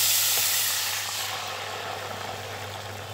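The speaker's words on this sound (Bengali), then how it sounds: "এবারে আমি কুমড়োটা প্রথমে দিয়ে দিচ্ছি।" Pumpkin pieces drop into hot tempering oil for a Bengali kochur mukhi and pumpkin dish, giving a loud hissing sizzle that starts strong and settles into a steady, slightly softer fry with no talking.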